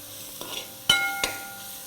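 Ingredients for prawn pulao are stirred in a pan, with a couple of sharp utensil clinks against the metal and a soft sizzle underneath, close and without talk.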